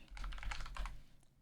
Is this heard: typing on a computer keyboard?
yes